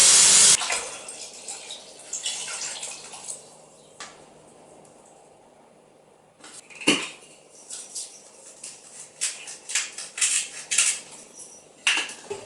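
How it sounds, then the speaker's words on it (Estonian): A liter of water splashes into a metal pot for broth in a home kitchen, with bright pouring and clinking of the pot, followed by scattered knocks and rattles of cookware at close range. "Nii et liiter vett siia sisse."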